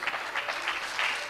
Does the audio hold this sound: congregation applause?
yes